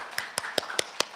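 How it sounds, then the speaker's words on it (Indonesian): Children clap in applause, five sharp, evenly spaced claps in quick rhythm, close and crisp over a quiet room. "Nah, tepuk tangan buat"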